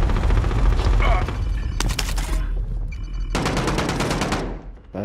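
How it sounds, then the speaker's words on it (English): Bursts of rapid automatic gunfire in a multiplayer shooter video game crackle close and loud, with two long rattling volleys separated by a short lull over a constant low rumble. "Taking fire here"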